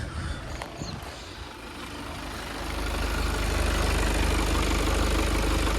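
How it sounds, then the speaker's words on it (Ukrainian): A 2019 Volkswagen Passat B8 2.0 TDI diesel engine idles steadily with a low rumbling hum that grows slightly louder and fuller halfway through, with no talking. "Двигун працює чітко, рівно, без жодних зауважень."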